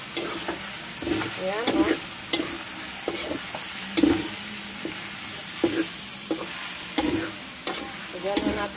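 Pork dinuguan cooking nearly dry in a pan sizzles steadily, with repeated spatula scrapes and clacks against the pan. A voice briefly speaks over it.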